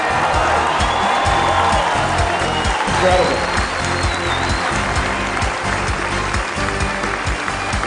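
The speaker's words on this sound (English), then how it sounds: "Give yourselves a round of applause." An audience at a Church of Scientology gathering in Sacramento, California, applauds in a dense, sustained wave of clapping, with a voice briefly calling out over it.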